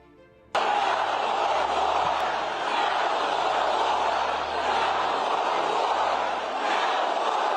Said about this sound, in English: got strong reaction from a crowd in Tulsa, Oklahoma